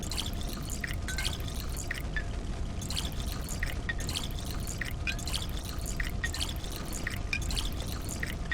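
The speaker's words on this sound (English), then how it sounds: "Wow, that's a lot of water." Water pours and splashes steadily in the Pathologic 2 video game, a continuous gushing stream with bursts of dripping layered over it. It stays loud and close throughout, with no voices.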